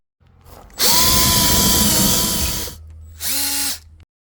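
A power drill bores holes for wiring through an RV front door, a loud close whine for about two seconds, then a pause and a second shorter burst.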